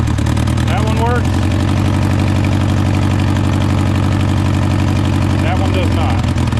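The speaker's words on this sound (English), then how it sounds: "We do have a cylinder misfire." A Honda Civic engine that sat unused for ten years idles roughly with a cylinder misfire, a loud, uneven low chugging pulse that runs throughout, with voices briefly heard over it.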